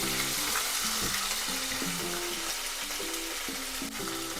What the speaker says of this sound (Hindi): जिंजर गार्लिक पेस्ट ऐड करेंगे। भून लेंगे, बहुत ज्यादा नहीं भूनेंगे।